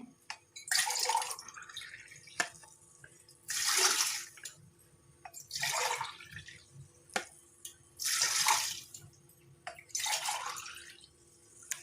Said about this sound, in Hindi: अब इसमें 4 गिलास पानी डालते हैं।